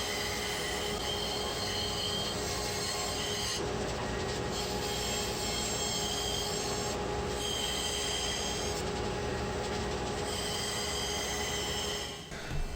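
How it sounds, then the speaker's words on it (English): A bandsaw cuts out the final shape of a router holder piece for a homemade CNC router's Z axis, giving a continuous loud, steady whine and rasp that holds for about twelve seconds. "I can then bring it over to the bandsaw and finish cutting out the final shape"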